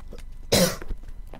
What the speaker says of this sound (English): Such cough, mate, such cough.